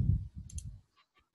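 Computer mouse clicks, a few quick dry clicks over a low rumble, then two faint isolated clicks in near silence.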